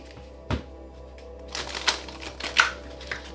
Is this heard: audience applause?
no